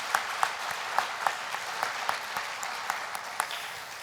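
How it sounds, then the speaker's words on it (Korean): Korean church congregation at a New Year's Eve worship service clapping together in thanks, a steady, evenly paced rhythmic applause with distinct regular beats over a soft crowd wash. "우리 하나님께 감사의 박수 한번 하십시다."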